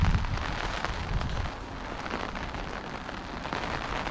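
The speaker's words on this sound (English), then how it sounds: "the rain started coming" Rain falling outdoors in Franklin, Tasmania, as a steady hiss of drops hitting surfaces, slightly heavier and lower at the start, then an even, moderate patter.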